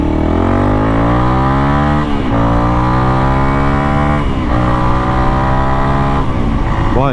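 A Honda CRF 300L motorcycle with a MotoX exhaust, airbox mod and ECU tune accelerates hard, its loud close engine note climbing through several gear changes and briefly dipping at each shift.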